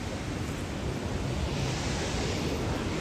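Thoseghar waterfall in Satara roars as a steady, dense rush of falling water, a broad unbroken wash of noise with no pauses.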